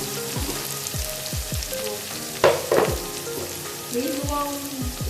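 Chicken frying in a pan after browned ginger and garlic, a steady close sizzle with occasional louder crackles and stirring scrapes, no talking.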